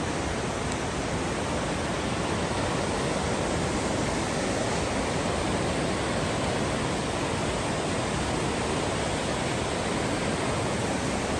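River flowing through Linville Gorge in North Carolina, a steady, dense rushing roar of moving water that stays constant and fairly loud throughout, with no voices.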